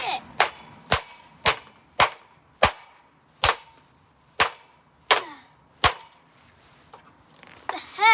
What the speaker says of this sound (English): But you know what we do to this cheap, dumb plastic? It destroy it.